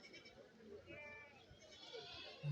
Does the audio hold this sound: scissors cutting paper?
no